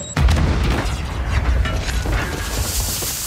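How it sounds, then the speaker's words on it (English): Smoke grenade in Call of Duty Warzone on Rebirth Island, a sudden close pop and burst followed by a sustained hissing, rumbling wash of combat noise; no speech. "Throwing smoke."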